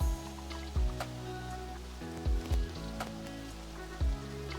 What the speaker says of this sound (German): Hört man das Rauschen? Es hat sich ganz schön eingeregnet.